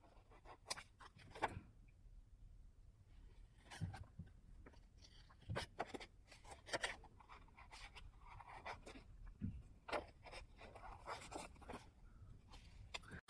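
Scissors snip through card pieces for a handmade Christmas card, giving a steady run of soft, close cuts and rustles with no talking.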